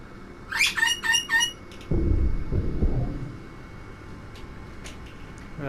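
In the Titanic VR game, a bird gives a burst of three or four sharp chirping calls close by, followed by a heavy rumbling thud, then faint scattered clicks in a quiet ambience.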